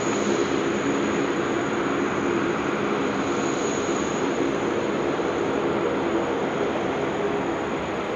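An airliner takes off from runway 16 right at Sydney Airport, a constant, heavy engine roar with a thin high whine on top, heard from a distance and unbroken by talk.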